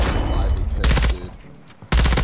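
Light machine gun fire rips out in Call of Duty Warzone as two loud, close bursts of rapid shots separated by a brief lull.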